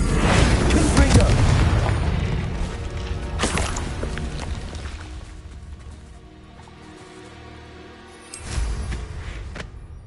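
The Confringo blast spell explodes in the Hogwarts Legacy video game, a loud booming burst that rumbles and fades over several seconds before a second smaller blast near the end.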